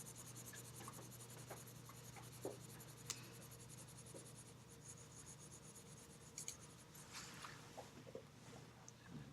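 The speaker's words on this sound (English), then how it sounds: "I'm just going to go sideways with the pencil." A graphite pencil shades sideways across paper in a quiet, continuous scratchy rubbing, with occasional light taps and a low steady hum underneath.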